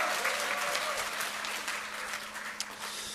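Applause from a lecture audience at a special talk in Korea, a dense steady patter of many hands filling the room, moderately loud and continuous, with a faint steady hum underneath.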